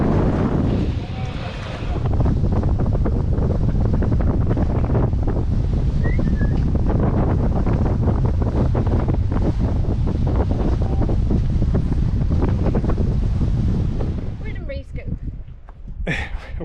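A sailboat underway in wind and waves, with strong wind buffeting the microphone and a constant rush of water along the hull, loud and steady before easing in the last seconds.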